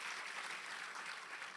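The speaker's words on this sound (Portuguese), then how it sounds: "Dá uma salva de palmas a Jesus" A church congregation applauds as a steady, faint wash of many hands clapping. It sounds distant and continuous for under two seconds.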